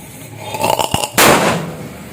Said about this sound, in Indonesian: Kita coba lagi yang petasan kretek besar teman-teman